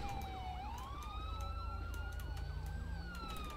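Police car siren wailing in GTA 5, a steady rising and falling electronic tone that carries clearly and continuously over a low rumbling engine.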